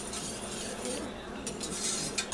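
Spoon stirring maple butter sauce in a pot over medium heat as it comes to a boil, soft steady scraping and faint clinks close up, with no talking.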